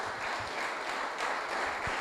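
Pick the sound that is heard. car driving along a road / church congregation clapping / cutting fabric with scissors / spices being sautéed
church congregation clapping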